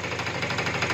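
Small two-stroke scooter engine idling steadily after a carburetor and throttle adjustment, a continuous buzzing drone with no talk over it.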